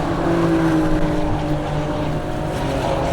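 A 2020 BMW X3M Competition with an over 500 horsepower M engine accelerating hard on a track, a loud, steady engine drone with rising harmonic tones and wind noise, close and with no talking.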